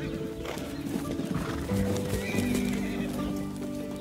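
A horse whinnies clearly while hooves clip-clop on the ground, both fairly close, over a busy outdoor background.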